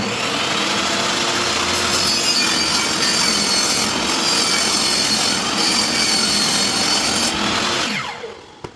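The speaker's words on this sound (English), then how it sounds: "Adjust the table saw to your mark, and then make the cut." Table saw cutting through a vinyl stair nosing board, a steady loud rasping whine held for about eight seconds before the blade runs down and the cut ends.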